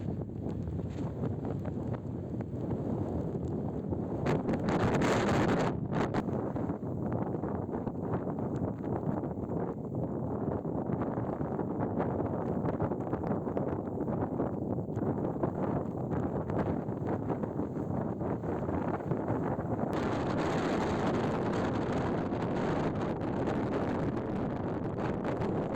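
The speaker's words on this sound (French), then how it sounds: "une nature en mouvement, rythmée par le vent" Wind blowing steadily across open Swedish Lapland terrain along the Kungsleden trail, a loud continuous buffeting roar with gusty microphone rumble that swells and eases throughout, no voices.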